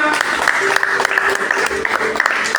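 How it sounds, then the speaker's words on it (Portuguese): Congregation clapping in church in praise, a dense, lively patter of many hands with a voice talking over it and faint tonal sounds mixed in. "Aplauda Jesus, porque só Ele merece"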